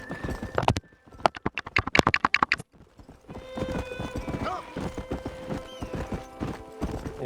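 Horse hooves in the Western video game Red Dead Redemption: a quick rhythmic clip-clop gallop, followed by a brief whinny, then a busier stretch of game ambience and movement noise.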